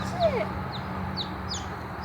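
Several high, thin peeps from a newly hatched chicken chick scattered over a steady low background hum, with a louder cluck early on.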